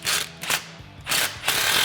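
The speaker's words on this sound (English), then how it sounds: "now you can grab a 15mm deep socket and tighten down your clamp" A ratchet fitted with a 15mm deep socket tightens an exhaust band clamp on a 2011-2014 Ford F150 resonator delete, producing close, loud bursts of quick clicking in three or four short strokes.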